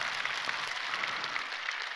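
A Sunday church congregation claps lightly and sparsely, a soft patter of scattered hands with a few distinct claps standing out, fairly quiet and unbroken by talk.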